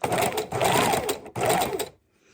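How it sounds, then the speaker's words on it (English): A sewing machine stitches pockets into paper for a miniature junk journal, running in two steady whirring bursts split by a short pause and then stopping, close and loud without talk. "we're going to turn that on and stitch some pockets"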